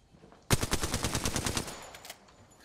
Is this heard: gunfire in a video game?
yes